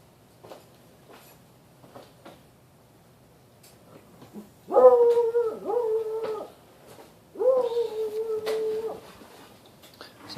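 A dog in a home workshop gives two drawn-out whining barks or howl-like yelps in quick sequence, fairly close and clear against a quiet room with faint small noises.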